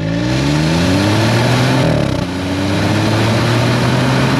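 An F56 MINI Cooper 1.5 engine revs hard through rising tones, drops briefly at a gear change with a short exhaust-flap burble, then pulls again loud and close.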